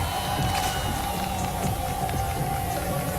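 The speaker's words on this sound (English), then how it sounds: "They must be cheering for Soulkey" A crowd at a StarCraft match cheers continuously. The broad roar is loud and steady for the whole moment.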